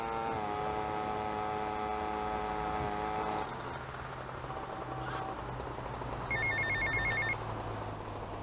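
A phone rings in GTA Vice City with a steady electronic trill. A low hum continues after it stops, and a brief, higher beeping tone follows near the end.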